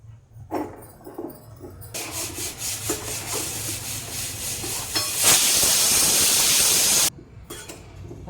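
Snake gourd roasting in a hot pan and pressed down, giving a steady rubbing, scraping sizzle that swells into a loud continuous hiss for a couple of seconds before cutting off, with no voices.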